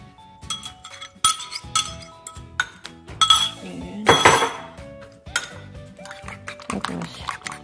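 A spoon clinks repeatedly against a bowl while stirring banana pancake batter with cinnamon, irregular sharp taps close up, with a voice talking over some of it.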